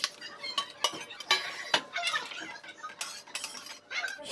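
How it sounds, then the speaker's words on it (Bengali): Flat beans tipped into a boiling rohu fish curry in a metal pot, with clinks of a spoon and utensils, stirring scrapes and a faint bubbling underneath, close and fairly quiet with no talking. "এবার দিয়ে দেবো শিমগুলো।"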